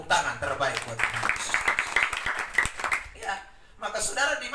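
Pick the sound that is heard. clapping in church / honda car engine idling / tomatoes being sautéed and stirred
clapping in church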